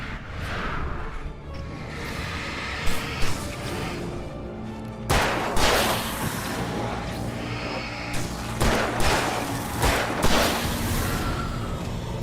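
Revolver gunfire in the Alan Wake video game on Nightmare Mode, loud repeated shots fired in clusters against enemies over a dense background of game ambience and music.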